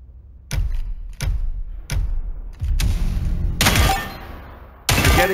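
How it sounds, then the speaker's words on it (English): Sharp gunshots from the shooter game Spectre Divide come in a series of loud, close single and short bursts with brief gaps between them, the later shots longer and denser. "Shoot the enemies as they appear."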